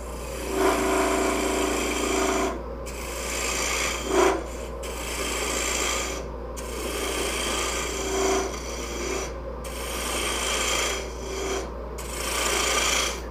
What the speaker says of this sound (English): I'm going to bring this piece down to that diameter. And I'm going to use the square carbide for that.